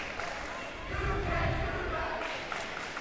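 A student section cheers at a high school senior-versus-junior boys volleyball game in a gym, a muffled crowd roar that swells in the middle under a commentator's voice.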